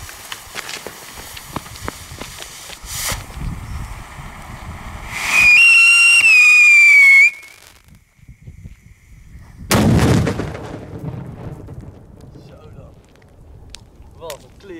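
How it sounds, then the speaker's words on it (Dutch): A Scream 5 whistling firework, called a giller, is set off outdoors in freezing weather in Poland. It gives a loud rising shriek for about two seconds, then a sharp bang, with people talking around it before and after. "Hier zo een prachtige Scream 5. Mooie giller natuurlijk."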